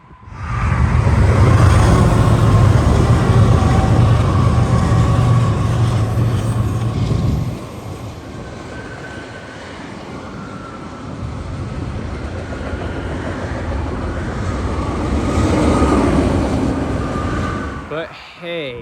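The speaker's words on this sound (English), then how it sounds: "Crossing under the bridge, it met with a BNSF freight train, one of the big, fast intermodal Z trains." BNSF intermodal Z freight train led by four GE Evolution locomotives passing near a bridge, a loud rumbling roar that eases into a continuous rolling rush of wagons, with wheel noise.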